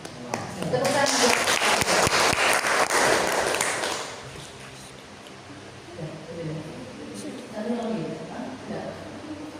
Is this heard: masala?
no